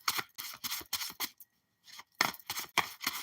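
Repeated crisp tapping and shuffling of tarot cards, quick bursts in uneven rhythm with a brief pause in the middle, close and fairly loud.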